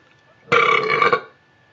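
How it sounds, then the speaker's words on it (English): A single loud, throaty burp lasting under a second, close up, set against near silence. "Got a burp, son."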